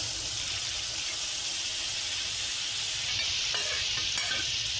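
Dal poured into a hot tempering spiced with garam masala, a dense steady sizzle close by, growing slightly brighter and hissier toward the end, with no voices.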